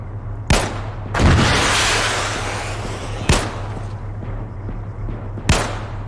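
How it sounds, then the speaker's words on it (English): A Bradley armoured vehicle in a video game fires its gun in four sharp, loud bangs spaced a second or two apart, one trailing into a longer rumbling blast, with no talking. "Bradley's firing on the mountain"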